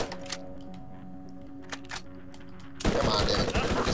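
A burst of rapid gunfire from a gun in the video game Borderlands cuts in after a few scattered shots, loud and sustained to the end.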